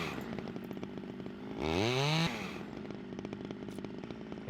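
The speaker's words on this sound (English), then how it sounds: "we'll use the chainsaw to cut them" Chainsaw in the survival game SCUM cutting branches into sticks, a steady engine drone with one loud revving burst in the middle as the blade bites, then settling back to idle.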